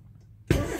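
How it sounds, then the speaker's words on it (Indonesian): A car engine cranks and catches, with near silence giving way to a sudden loud burst of engine noise that carries on steadily to the end. "Setelah mesin nyala seperti ini,"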